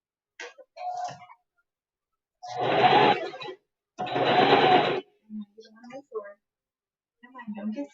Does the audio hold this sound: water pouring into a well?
no